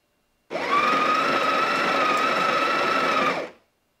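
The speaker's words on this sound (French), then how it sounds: "On rappuie sur le bouton et elle va moudre à nouveau." A Sage Barista Touch Impress coffee machine grinds beans in one steady, loud whirring burst lasting about three seconds, starting abruptly and cutting off cleanly.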